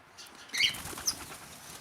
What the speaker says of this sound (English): And there's Charlie flying away.